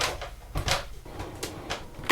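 A plywood hatch at the top of alternating tread stairs swings open with a few soft knocks and light wooden bumps, fairly quiet and close by.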